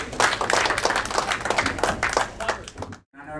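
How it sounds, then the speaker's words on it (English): A post-fight audience gives a brisk round of applause for boxer Aydin, dense rapid hand clapping close to the microphone that holds steady and then stops abruptly. "give a round of applause for Aydin"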